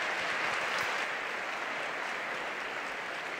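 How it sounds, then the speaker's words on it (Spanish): Steady applause from the audience at an anniversary event, a dense even patter of many hands that fades slightly toward the end, heard alone without talk. "El aplauso, ingeniero."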